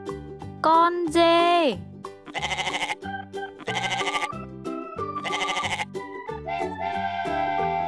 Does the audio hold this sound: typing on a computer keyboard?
no